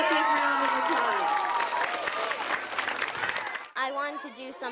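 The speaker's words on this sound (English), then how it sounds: "Let's give Lexi a big round of applause" A school crowd applauds a 5th grade mural artist, giving a dense burst of clapping and cheering that fades out. A voice speaks right after.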